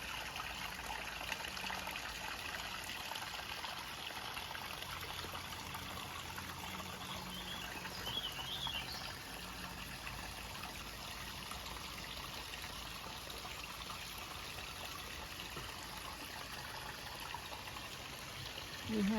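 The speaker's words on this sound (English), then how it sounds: "Got some water running here in the stream." Water runs steadily in a stream of the flooded Crow Wing River after days of rain, a faint, continuous outdoor wash and trickle with no talk over it.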